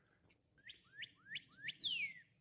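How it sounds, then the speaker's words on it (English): A northern cardinal sings a series of four clear, downward-slurred whistled notes ending in a longer sweeping note, fairly close in a garden, with a low rumbling background. "That is a cardinal."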